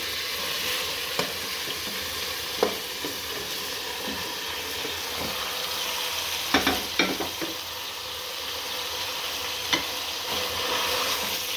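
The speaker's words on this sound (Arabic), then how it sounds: "نحرك. خليها تجي مليح." Vegetables fry in a pot as they are stirred, with a continuous close sizzle broken by scattered scraping knocks of the spoon against the pot.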